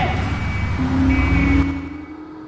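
A truck rumbles past in Grand Theft Auto III traffic in Shoreside Vale, a brief swelling engine drone with a steady mid tone that fades away after a second or so.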